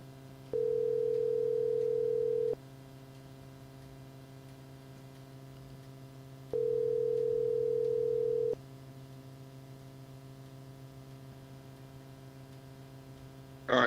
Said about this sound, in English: Joseph, I'm gonna give you a call, see if we connect that way on the phone.